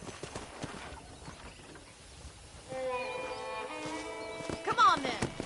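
Horse hooves clip-clop in a steady rhythm in the video game Red Dead Redemption, with a brief whinny and background music rising partway through; a voice speaks faintly.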